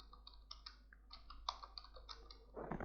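Code being typed on a computer keyboard: a quick, uneven run of soft, close key clicks, quiet and without speech, ending in a slightly louder flurry of keystrokes.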